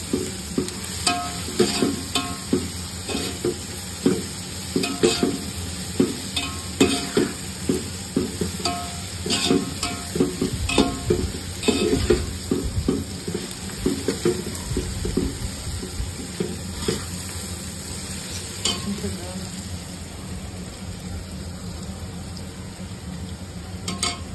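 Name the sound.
onions frying and being stirred for chicken biryani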